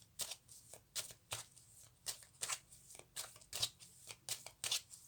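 Tarot cards shuffled by hand in a steady run of crisp riffling bursts, each one short and papery, repeating about every half second at low volume with no talking.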